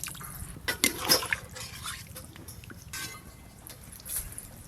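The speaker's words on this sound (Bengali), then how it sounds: "এবার পরিমাণ মতো জল দেব।" Water is poured into a pan of poppy-seed and cashew-paste curry gravy, giving splashy bursts of liquid that rise, fade and return, with quieter trickling between them, close by and with no speech.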